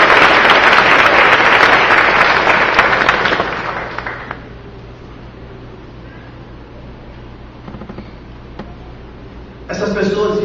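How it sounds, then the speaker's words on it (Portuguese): Church congregation applauding loudly during a sermon, broad clapping filling the first four seconds before fading into quieter room sound, with a brief burst of clapping returning at the very end. "Você pode aplaudir ao Senhor?"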